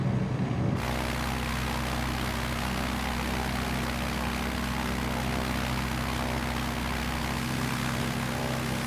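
Simulated Rans S6S Coyote II ultralight in Microsoft Flight Simulator, engine held at full revs, gives a loud, steady propeller drone with a constant harmonic hum that starts abruptly and runs on without breaks.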